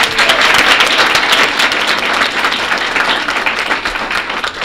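An audience at an NNPS school board meeting gives a big round of applause: dense, loud, steady clapping from many hands that fills the room for the whole stretch, with no voices over it.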